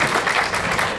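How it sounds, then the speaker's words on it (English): Audience applause at a theater talkback event, a brief, even wash of many hands clapping, steady and full with no break. "This is where you're supposed to clap."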